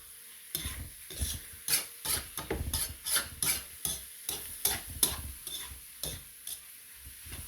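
An egg cooks in a pan with bitter gourd (ampalaya) sisig, a low sizzle broken by repeated rhythmic scraping and clacking strokes of a utensil against the pan, close and clear with no talking.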